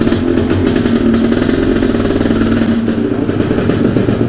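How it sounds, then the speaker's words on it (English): A Suzuki LT 500 Quadzilla ATV engine idles loudly and close by, a steady, even low rumble with a lumpy, slightly rattling beat and no revving. "Listen to that idle perfectly and everything."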